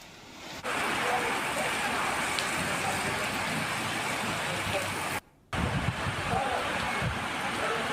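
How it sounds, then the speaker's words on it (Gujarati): Steady rain falling outdoors in Ahwa, Dang district, during a stormy change in the weather, a dense continuous hiss with a brief break midway, and a person talking over it; no distinct thunder stands out. "આહવામાં ગાજવીજ સાથે વરસાદ પડી રહ્યો છે"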